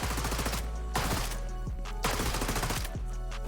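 An LVOAC rifle in the shooter game XDefiant fires in rapid sustained bursts with brief pauses between them, loud and close with no voices.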